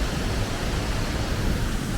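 Tad Fane waterfall near Pakse, Laos, heard from close by as a steady, dense roar of falling water that fills the sound evenly, with no talking.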